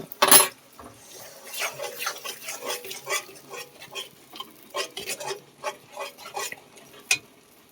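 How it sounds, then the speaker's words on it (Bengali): Ground poppy seed paste with a little water goes into cooked spices in a pan, giving a sharp clatter at the start and then repeated wet stirring and scraping strokes, close and fairly loud. "পোস্ত বাটাটা দিয়ে দেবো"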